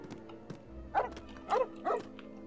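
Dog barks in the Lego Harry Potter video game, three short yelps about half a second apart, fairly clear over a low steady game background.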